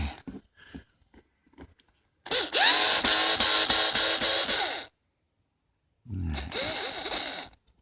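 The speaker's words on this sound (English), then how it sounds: "So I've got my trusty cordless power drill here." A cordless power drill removing a part inside a minivan being built into a camper, two loud whirring bursts, the first about two seconds long and the second shorter, with quiet clicks and handling noises before them.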